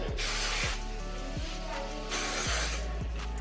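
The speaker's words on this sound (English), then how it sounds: "I'm gonna do one more spray just because" Two bursts of hairspray hissing from an aerosol can, close and loud, with low rhythmic thumps running beneath.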